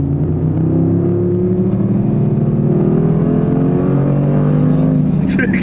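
An Audi car accelerates close by, its engine note climbing steadily in pitch and loudness as it pulls hard.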